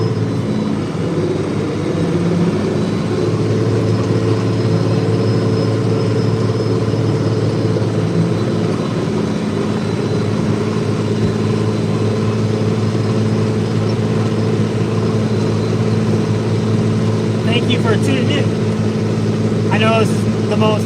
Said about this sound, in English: this is my 3688 tractor